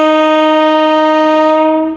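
A train's horn sounds at a railway station in Kurigram, Bangladesh, on a foggy day: one loud, steady, drawn-out blast lasting about two seconds that cuts off at the end, with no voices.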